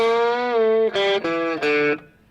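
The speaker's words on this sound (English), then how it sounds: "the last measure plays a little intro lick that sounds like this." Electric guitar plays a short intro lick alone: a held bent note that releases, then three quick picked notes, clear and close.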